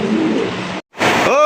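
Fancy racer pigeons cooing at a pigeon market, low soft coos close by, mixed with people talking nearby.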